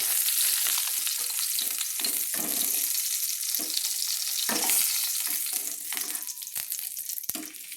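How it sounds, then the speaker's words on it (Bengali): Bata fish sizzling in hot oil in a pan, a dense steady crackle close by with occasional scrapes and taps of a spatula as the pieces are lifted, no voices. "তো আমার বাটা মাছগুলো 2 পিঠ ভাজা হয়ে গেছে।"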